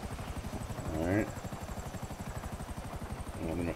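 A helicopter flies in the video game GTA 5 Online, its rotor beating in a fast, steady rhythmic chop throughout, with someone talking over it.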